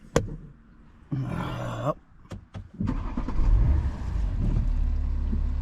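An Alpina XD4 quad-turbo diesel is started: a brief electric whir from the starter, a few clicks, then the engine catches and settles into a low, steady idle rumble, with one short spoken word near the end.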